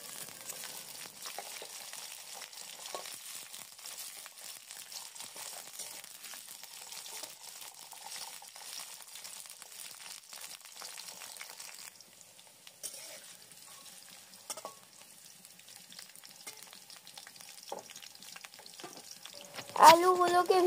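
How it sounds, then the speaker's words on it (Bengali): Potatoes frying in oil with bay leaf and cumin, a soft continuous crackle and sizzle with light stirring scrapes, fairly quiet and close, with a brief clatter near the end. "এবার আলুগুলোকে খুব ভালো মতো ভেজে নেব"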